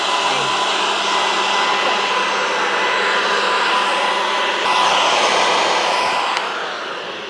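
A leaf blower roars steadily at close range inside a library, a loud continuous whooshing motor drone with no pauses.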